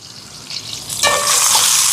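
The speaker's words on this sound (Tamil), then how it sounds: "இப்போ வெங்காயம் எல்லாம் நல்லா வதங்கிட்டு" Sliced onions and green chilies frying in a pan, a soft sizzle that swells into loud, bright crackling as the ingredients are stirred, close up with no voices.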